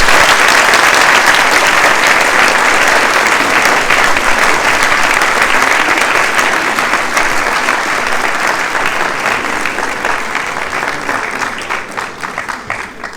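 A large audience applauds the finalists of an eloquence contest, a loud, dense wash of clapping that holds steady for many seconds, then gradually thins and fades toward the end.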